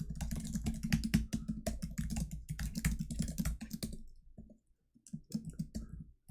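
Rapid keystrokes on a computer keyboard as code is typed, dense clicking bursts for about four seconds, a short pause, then a few more scattered key presses, close and moderately loud.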